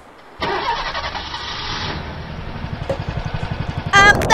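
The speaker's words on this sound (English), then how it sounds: "The rocket." A rocket launches in the video game Fleeing the Complex, a sudden loud roaring blast that rises into a steady rumble with pulsing thrusts, then a brighter burst at the end, with no talk over it.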